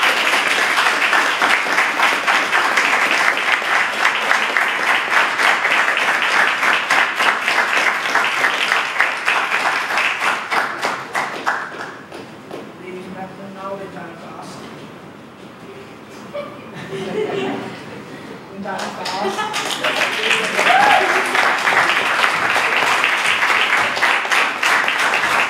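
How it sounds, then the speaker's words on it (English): Audience applause at a dramatic enactment, dense steady clapping that fades to scattered claps and chuckles midway, then swells back into full, loud applause. "please join me in giving him a round of applause"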